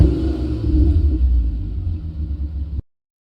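A car heard from inside on a short drive: a low, steady engine and road rumble that stops abruptly near the end, with no talking.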